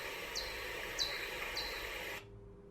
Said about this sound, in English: a pipistrellus, has calls which sound like this.